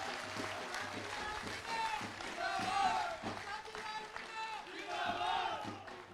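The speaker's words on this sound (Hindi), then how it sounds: "तालियां बजा करके इनका स्वागत करो," Crowd at a Laxmangarh hospital inauguration clapping and cheering in welcome, a steady wash of applause with shouts, moderately distant and fairly faint.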